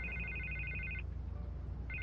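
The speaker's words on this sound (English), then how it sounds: "I can't get the phone to stop ringing." A telephone rings with a shrill electronic warble, one long burst, a short pause, then the ring starts again, over a low background hum.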